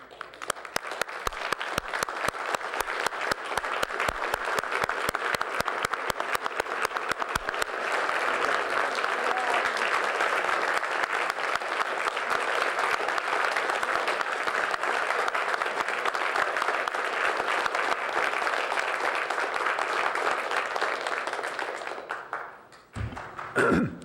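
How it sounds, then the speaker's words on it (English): A roomful of people at a city council meeting stands and applauds a council member's years of service, dense sustained clapping lasting about twenty seconds before tapering off. "I'd like to give everyone in this room an opportunity to stand up and applaud your accomplishments."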